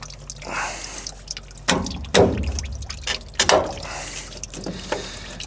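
Engine oil draining from an oil filter during a vehicle service, with irregular drips and splashes of liquid mixed with a few louder knocks and handling noises, close by.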